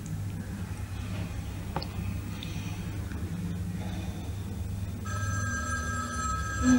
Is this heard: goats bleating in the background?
no